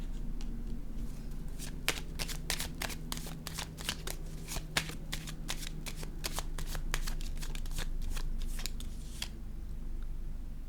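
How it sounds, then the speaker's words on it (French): Tarot cards being handled and laid down, with a rapid run of crisp snapping flicks and riffles over a low steady background hum, close up. "Je vais déposer une autre carte ici"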